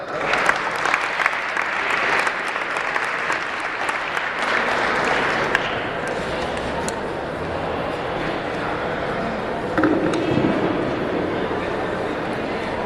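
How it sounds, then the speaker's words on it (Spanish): Audience at a Holocaust remembrance talk giving strong applause to welcome a speaker, loud and dense for about six seconds, then fading into softer scattered clapping and murmuring. "Recibámosla con un fuerte aplauso."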